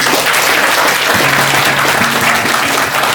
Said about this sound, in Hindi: एक बार ताली बजाए दवाने सबको।